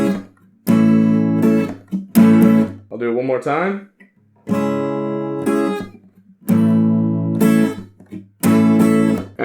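An acoustic guitar strums the pattern, alternating full ringing chord bursts with tight palm-muted hits, close and loud, with someone speaking briefly in between.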